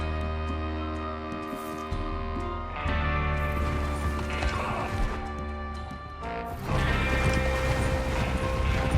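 Horses gallop during a train robbery in Red Dead Redemption 2, hooves pounding in a busy, layered soundscape with clattering mechanical noise, a horse's whinny and rising crashes over a low sustained drone.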